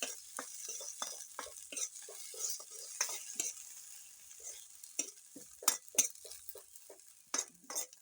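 Onions being stirred in a cooking pot over a fire in an African village kitchen, with repeated faint scraping and clinking strokes and a light sizzle running throughout, no voices.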